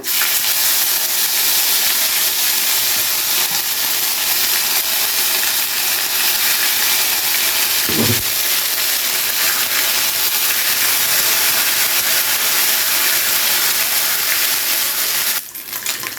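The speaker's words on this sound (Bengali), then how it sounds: "আদাটাকে তেলের মধ্যে খুব ভালো করে ভেজে নিলাম" Ginger paste fries in hot oil with radhuni seeds for shukto dal, giving a loud, steady hiss that holds for the whole stretch. A short clatter comes midway and another just before the end.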